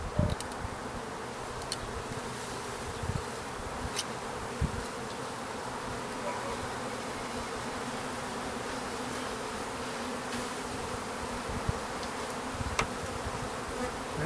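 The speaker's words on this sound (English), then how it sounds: "This is the tricky part because there are loads of bees on this." Dense, continuous buzzing of many honeybees during installation of new bees into a hive, close and steady throughout, with occasional faint knocks and clicks.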